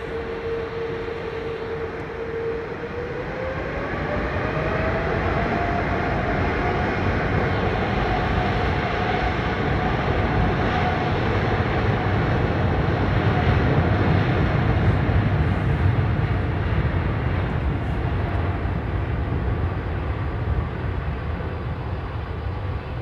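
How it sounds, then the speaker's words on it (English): An airliner at London Heathrow Airport runs its engines up, a loud, sustained roar that swells after the first few seconds, with a rising whine, then holds steady with no voices. "Listen to him run the engines up."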